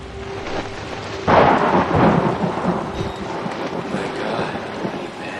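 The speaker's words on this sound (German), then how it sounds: "Es gewittert, so wie es anhört." Thunderstorm in the horror game Outlast, with a loud thunder crash breaking out about a second in and rolling on over steady rain and wind.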